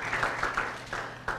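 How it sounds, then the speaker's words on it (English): Brief audience applause in a teaching lecture hall, a handful of distinct claps in an uneven rhythm, fairly faint and close, lasting just over a second. "let's give you a round of applause here."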